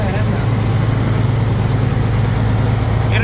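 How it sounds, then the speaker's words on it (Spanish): Loud, steady idling rumble of a tractor engine after repair, a continuous low throbbing drone close by. "está con la máquina en marcha."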